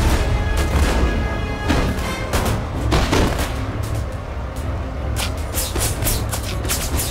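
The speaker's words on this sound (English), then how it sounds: "That was a decent artillery hit. And there go the grenades." Artillery fire and grenade blasts in the Napoleon Total War game during a swamp battle, a dense, continuous roar of booms and crackling volleys with scattered louder hits throughout.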